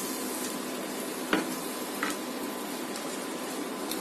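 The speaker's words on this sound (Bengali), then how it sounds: "এই পাশটাও ভালো করে ভেজে দিতে হবে।" Breakfast food frying in soybean oil in a pan, a steady soft sizzle throughout with a few faint clicks of the pan, no talking.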